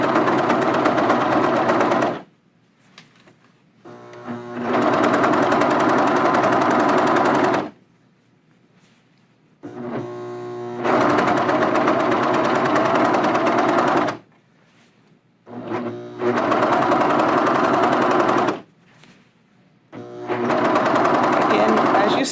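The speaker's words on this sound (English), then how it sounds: "So I'm just serging onto it, onto the waistband." A serger sewing machine sews onto a jogger waistband seam, its rapid mechanical chatter running loud and close in four long bursts of several seconds each, separated by brief pauses where it stops.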